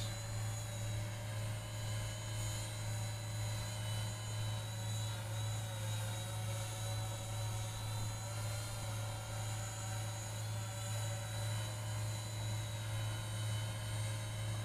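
Hubsan Zino drone flying outdoors, a faint, steady high-pitched rotor whine with a constant low hum underneath, with no talking and no change in loudness throughout.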